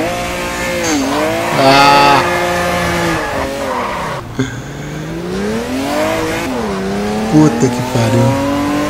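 Cars in an online racing video game roar with loud, rising and falling engine revs as gears shift through corners, tyres squealing now and then, while a player shouts excitedly over the game sound.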